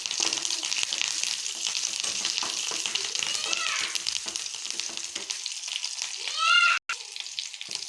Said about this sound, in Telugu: పచ్చిమిర్చి వేగిన దీంట్లో కరివేపాకు వేసుకోవాలి